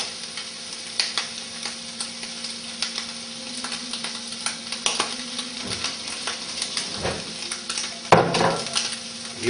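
Chopped garlic sizzles steadily in a hot frying pan, with scattered stirring clinks and a louder crackling flare toward the end. It is close and continuous, with no talking.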